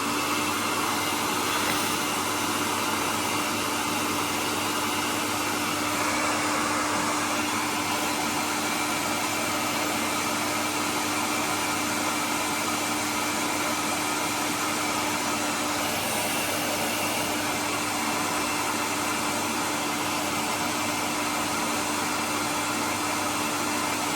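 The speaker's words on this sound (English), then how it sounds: "we're going to need the hairdryer again" A hair dryer runs continuously at close range, a loud, steady whooshing blower with a constant motor hum and no pauses, and no talk over it.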